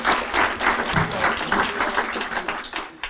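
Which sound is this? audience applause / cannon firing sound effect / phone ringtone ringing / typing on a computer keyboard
audience applause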